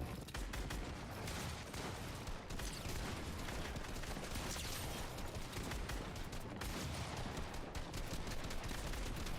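Dense, continuous gunfire from a shooter video game, rapid overlapping shots and mechanical clatter at a steady loud level with no voices.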